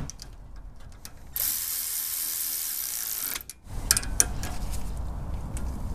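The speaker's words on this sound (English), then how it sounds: "then get your 10 millimeter nut started" A hand ratchet turns a 10 mm nut on a small ABS clamp during an upper ball joint replacement, with a steady mechanical whir and then a string of close, crisp clicking strokes.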